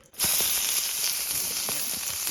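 Onions sizzle in butter and bacon grease for Mississippi pot roast style cheesesteaks, a loud steady crackling hiss that bursts in suddenly and holds, with faint pops scattered through it.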